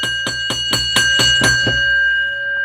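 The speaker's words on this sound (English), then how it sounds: "The only way to start this the right way, to ring that bell, Jane Donnelly just rang that shit." A bell is rung about seven times in a quick, even rhythm to start a wrestling watch-along stream for Survivor Series, with bright ringing tones that hang on and fade slowly after the last strike.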